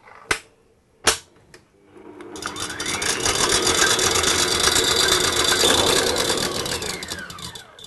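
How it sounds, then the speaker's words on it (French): A stand mixer whipping egg whites at maximum speed: after a few sharp knocks, the motor whirs up into a loud, steady high-speed hum that holds for several seconds, alone without talk. "On verse les blancs d'œufs dans le bol du batteur et on va les monter vitesse maximum."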